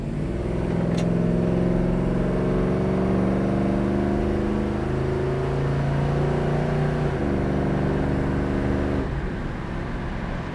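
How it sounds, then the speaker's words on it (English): A 1965 Ford Mustang engine pulling through the gears at highway speed, a loud steady drone with harmonics that rise, then drop at the shift around seven seconds, before climbing again, close and without talk. "Just running through a couple gears here."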